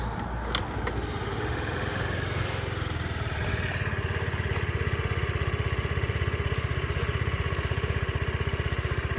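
A Honda Dio AF-68 fuel-injected scooter engine idles steadily nearby with an even, rapid putter, no voices.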